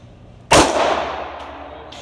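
A single sharp handgun shot fired during a firearm shooting demonstration, a loud close crack followed by a long decaying echo with no talk.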